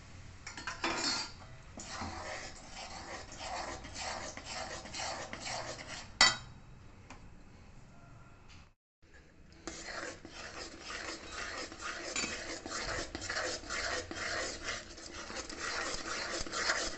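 A spoon works steadily through thick Mysore pak mixture in a pan, giving continuous scraping and clinking, with one sharp knock and a brief drop to silence partway through.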